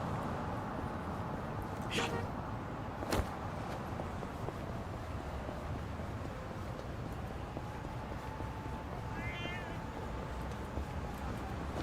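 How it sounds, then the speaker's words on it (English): A cat meowing in a video game, a short faint meow near the end over a steady wind-like ambient bed, with a couple of sharp clicks earlier. "Oh, well, I went the wrong way, but I found a cat."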